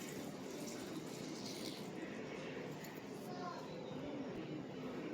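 Half a glass of water pours steadily into a pan holding a kilo of sugar for coconut barfi, a close, continuous splashing gush.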